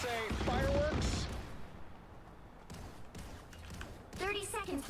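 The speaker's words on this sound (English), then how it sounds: "Anyone say fireworks?" Fireworks go off in a video game, a loud sustained crackling burst with popping and thuds while a character's voice and game audio play over it.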